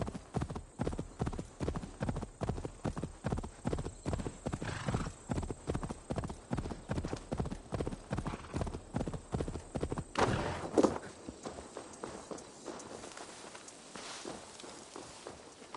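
Steady clip-clop of horse hooves at a walking pace in Assassin's Creed Valhalla, evenly spaced and close, ending in a brief rustle and then quieter ambience.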